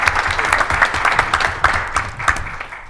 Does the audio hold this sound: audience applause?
yes